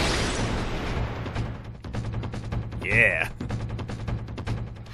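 An enemy firing at the player in Metroid Prime Hunters: rapid repeated shots with a fast, even rhythm over game music. A brief whooshing projectile sound rises midway, and a short spoken word is heard.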